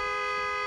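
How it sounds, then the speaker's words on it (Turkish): A stuck car horn blares in one continuous, unbroken tone, loud and close, with no pause or variation. "Korna takıldı."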